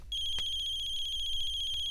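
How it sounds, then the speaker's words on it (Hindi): A telephone rings with a steady, continuous electronic tone, close and clear, with no talking over it. "हे भगवान, जरूर ये फोन समीर की दादी का होगा।"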